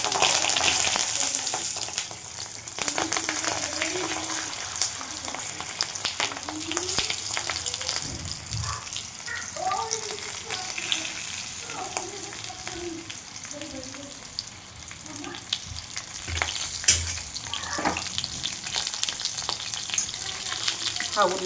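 Stuffed green chillies fry in hot oil, crackling and spitting steadily close by for a long stretch. A few light clinks and a spoon moving through the pan break in now and then, and nobody speaks.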